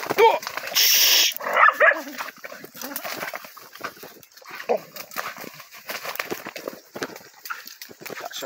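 Dogs bark at an opossum in short, sharp, repeated bursts, fairly close, with scuffling and background noise between barks.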